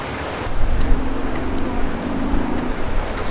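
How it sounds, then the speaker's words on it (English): The Kern River rushes past in a steady, close, broadband roar of flowing water with gusty wind noise over it, continuous for the whole stretch with no voices. "The mighty Kern River."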